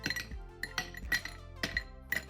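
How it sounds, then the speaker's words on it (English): Ice cubes clink against a pint glass in a run of sharp, bright taps in small clusters, close and clear, with no talking. "In a pint glass filled with ice"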